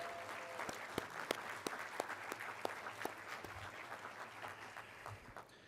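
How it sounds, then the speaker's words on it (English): Applause from an audience at a hospitality industry awards ceremony, a dense steady patter of many hands clapping, fairly distant and even throughout. "Let's give them a huge round of applause."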